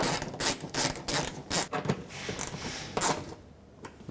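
A 5.5mm bolt being driven into the front fender liner of a 1998–2011 Ford Ranger, a run of close, clicking ratchet strokes in a quick uneven rhythm that stops near the end.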